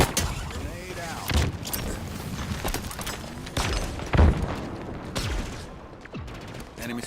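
Grenade blast in the Halo Infinite shooter game amid a firefight, with booming thuds and bursts of gunfire recurring over several seconds, voices calling out over the combat.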